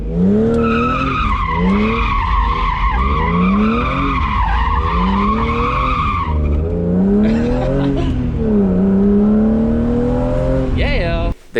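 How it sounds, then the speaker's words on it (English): A US-spec 80,000-mile BMW E36 M3 does a donut, its tires squealing loudly and continuously with wavering pitch over engine roar, the skid briefly easing midway before surging again and cutting off at the end. "Whatever, I'm just gonna do a donut."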